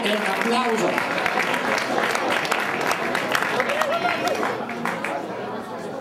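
Crowd applause with cheering and chatter at an outdoor cyclocross bike race prize ceremony, steady and dense for several seconds, gradually thinning toward the end.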